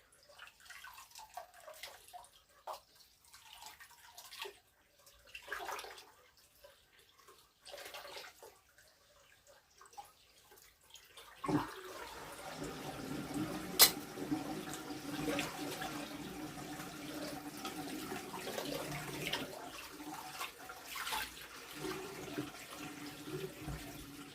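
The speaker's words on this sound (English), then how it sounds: "No matter how many times you rinse it, you keep getting more blue." Tap water rinses blue ink from the cap of a Brother DCP-197C printer ink cartridge, with quiet handling noises at first and then a steady, close rush of running water through the second half.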